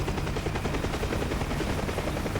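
Mi-8 helicopter rotor in the DCS flight simulator, a steady, dense, rapid chopping thrum that stays loud and close for the whole stretch, with no voices.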